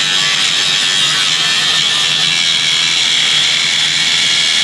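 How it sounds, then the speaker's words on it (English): A pump runs with a loud, continuous high-pitched whine and hiss, steady and close throughout with no breaks, during the washing out of fertilizer bins. "We'll wait till the pump is done pumping."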